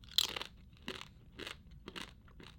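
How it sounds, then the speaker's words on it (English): Crisp crunching bites of liver crisps repeat about every half second, close and dry, five distinct crunches with no talking. "they're super crunchy. Give you a little crunch taste test here."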